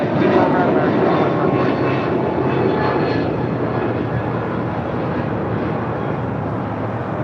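A Delta Airlines jet arriving from Nashville roars on runway 25 right at Los Angeles International Airport, its loud broadband engine rumble steady and unbroken, no voices.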